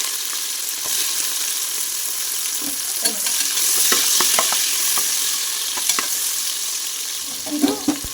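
Urad dal and whole spices frying golden in a pan for kothambari bath, a constant loud sizzle with scattered spatula scrapes and clicks, close up and without any talking.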